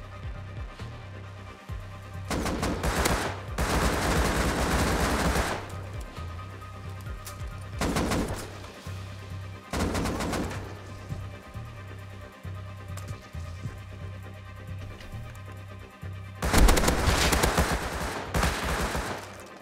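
Gunfire in the video game Rust comes in several long, loud bursts of rapid automatic shots separated by pauses, over a steady low humming background.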